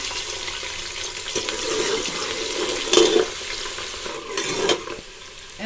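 Onions frying in oil for a fish curry give off a steady, close sizzle, with stirring scrapes and a couple of louder bursts partway through, and nobody speaks.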